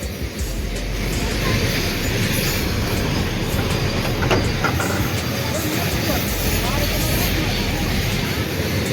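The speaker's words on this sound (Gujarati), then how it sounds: "જોવા બહાટી રેલ આવે છે. જુઓ કેટલી લાંબી છે" A long freight train rumbles past at close range, loud and steady throughout, with rhythmic clatter of wagons over the rails; a voice is barely present.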